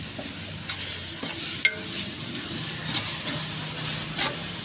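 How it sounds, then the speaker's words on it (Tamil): Garlic-ginger masala for mutton biryani is stirred in a hot pan, giving a continuous sizzle and hiss broken by repeated spoon scrapes and strokes. "அதனால் நம்ம நல்லா கிளறி விட்டுக்கிட்டே இருக்கணும்"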